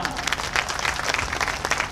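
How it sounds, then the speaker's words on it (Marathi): A crowd at a political rally applauds in welcome, with dense, sustained clapping filling the whole moment and a faint murmur of voices beneath. "जरा जोरदार टाळ्या वाजवा"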